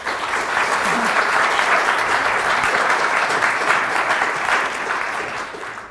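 An evening audience at Asia House applauds to welcome guests at a Pan Asian Film Festival introduction of Norwegian Wood, a loud, dense wash of clapping that holds steady for several seconds and then fades slightly near the end.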